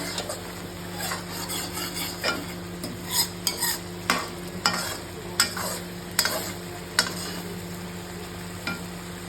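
Spice masala being sautéed in a pan for a cauliflower and potato dish, with repeated scraping stirs of a spatula against the pan over a soft sizzle, close and alone.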